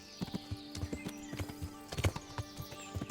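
Horse hooves clip-clop in Kingdom Come Deliverance, a steady close walking rhythm of distinct thudding steps with a brief louder cluster midway and faint ambient tones beneath.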